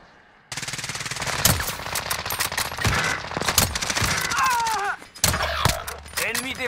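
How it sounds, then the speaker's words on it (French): Automatic weapon fire in Call of Duty Modern Warfare on Rebirth Island, rapid close bursts of shots with sharp impacts and whizzing sounds, continuing loud across several seconds with brief pauses. "Je prends des balles de l'ennemi."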